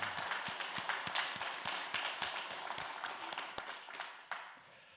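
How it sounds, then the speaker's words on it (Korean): A church congregation in a Korean Sunday morning service claps to welcome new members, producing faint, rhythmic, fairly even applause that continues for several seconds. "우리 이분들께 감사 박수 한번 드리겠습니다"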